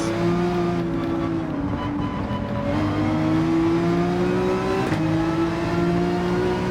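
Porsche 911 GT3 race car engine in Gran Turismo 7 accelerating hard, a loud sustained whine rising in pitch through the gears with sharp drops at each upshift, continuous and close with no talk.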